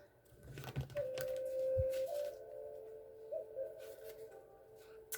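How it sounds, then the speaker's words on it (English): A tarot card deck is shuffled by hand, giving soft papery riffles and taps close up, with a steady tonal hum running underneath. "And as I shuffle"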